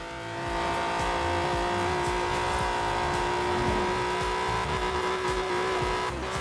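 A twin-turbo 3.6 litre car engine from the Forza Horizon 4 racing game drones loudly and continuously with a steady tonal whine, holding high revs without a break.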